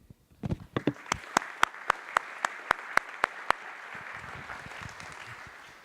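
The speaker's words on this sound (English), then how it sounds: "another round of applause that I'd like to join in as well" Audience at a CEO Institute business summit applauding: a few scattered claps build into a steady run of sharp, evenly spaced hand claps, with a softer spread of clapping from the room behind, fading into a quieter murmur.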